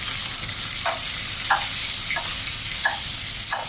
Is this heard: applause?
no